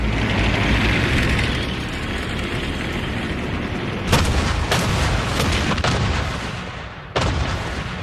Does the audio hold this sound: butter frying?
no